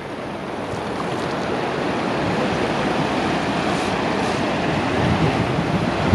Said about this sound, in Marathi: फक्त हे ओव्हरफ्लो होऊन तलावातून पाणी बाहेर येत आहे.